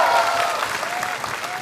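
A studio audience at a televised Vietnam's Got Talent semifinal applauds judge Huy Tuấn, a brief burst of dense, continuous clapping with faint held tones beneath it.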